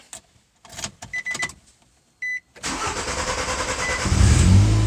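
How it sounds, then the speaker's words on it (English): A car engine with a worn muffler cranks in a few short bursts with a chime in between, then catches and settles into a steady idle that grows louder, close up. "Now it does have a bit of a long crank, but it is starting"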